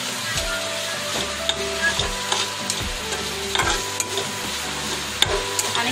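Grated coconut roasting in ghee for modak filling, a steady close sizzle broken by repeated scraping stirs of a spoon against the pan at a regular pace.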